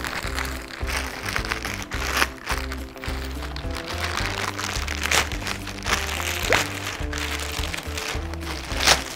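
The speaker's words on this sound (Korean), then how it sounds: "이제 제가 또 이번에 또 새로 나온 상품들이 있다 그래서 제가 한번 언박싱 한번 해보도록 하겠습니다" New Milwaukee tool products, including a bag, are unboxed, with packaging crinkling, rustling and crunching in repeated bursts at close range over steady background music.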